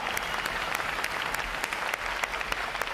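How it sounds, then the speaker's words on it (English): Applause from a large audience at a U.S. Navy boot camp graduation, a continuous dense wash of clapping with sharp individual claps and faint cheers, filling the whole moment without speech. "how about a round of applause for our unit and individual awards?"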